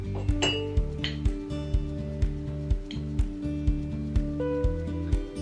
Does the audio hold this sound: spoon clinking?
yes